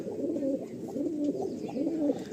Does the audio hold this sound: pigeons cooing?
yes